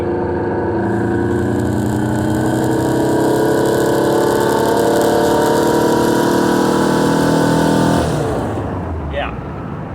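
A car engine with a lean-running carburetor roars at wide open throttle, loud and sustained with a steady droning pitch for about eight seconds before easing off, while a voice speaks near the end.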